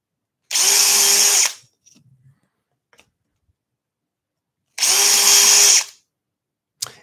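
A power drill bores through wood laid on a backing board, giving two loud, close bursts of high whining about a second each, separated by a pause with small clicks and taps.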